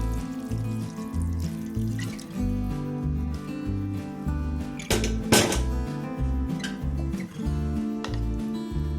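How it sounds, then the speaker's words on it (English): Boiling water is poured from a karai into a pressure cooker in a home kitchen while cooking dhaba-style chole chicken, a soft watery splash and trickle half-buried under steady background music. "I'm boiling some water, which I'll be pouring into the pressure cooker"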